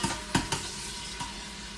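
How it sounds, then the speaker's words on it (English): Diced small onion and minced fresh garlic cook in oil in a pan, giving a steady close sizzle broken by a few sharp scraping stirs. "And then we're going to let that cook, and I'm going to stir it until the onions are clear or translucent."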